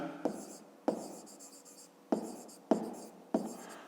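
A pen or pencil writes numbers on paper during a fifth-grade long division exercise, a few short scratchy strokes in separate bursts, close and quiet, with no talking.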